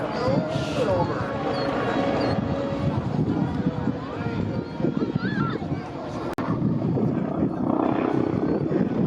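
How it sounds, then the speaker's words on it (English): Red Bull BO-105 helicopter performing flips at an airshow, its rotor noise a steady distant drone that mixes with wind and crowd sounds while an announcer talks over it. "Rotates that helicopter. Let's see, it's a tiny little flip around the top."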